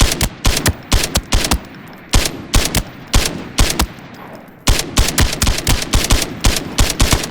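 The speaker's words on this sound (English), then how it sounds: "Try to shoot him with the BB gun." Rapid volleys of BB gun shots fired at another player in Arena Breakout: Infinite, a loud, sharp crackle of repeated bursts with brief pauses between them, continuing throughout without any talk.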